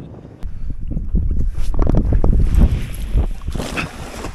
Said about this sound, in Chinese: 哎呀，这大风